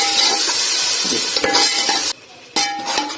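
Masala for tikka biryani, with tomatoes, is stirred and fried in a pan, giving a loud, steady sizzle close up, with scraping strokes from the spoon and a brief drop in the noise near the end.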